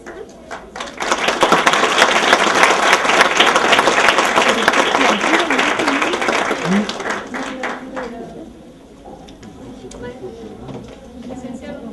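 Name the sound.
applause for the organization and participants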